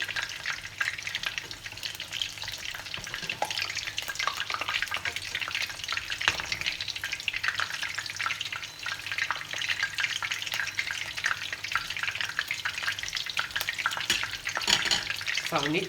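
Tempura-battered basa fillets deep-frying in hot oil give a dense, steady sizzle and crackle that hold loud and close throughout, with no talk.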